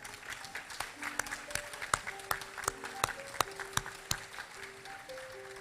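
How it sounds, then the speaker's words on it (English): School awards assembly applause for Year 5 pupils: a quiet, sparse patter of claps with a few distinct louder hits, heard from a distance with faint tonal sounds underneath. "a round of applause for our Year 5s."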